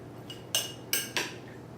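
Metal utensils clink against a bowl while seasoned cucumber salad is tossed: three short, bright scrapes and clinks in quick succession, close up and fairly quiet, with no talking.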